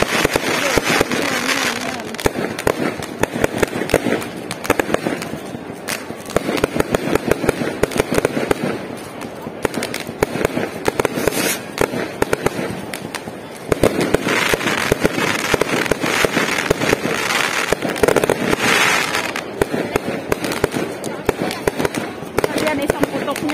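Firecrackers at a Chinese New Year celebration in Macau pop and crackle in rapid, continuous bursts, loud and relentless, with voices talking beneath the barrage.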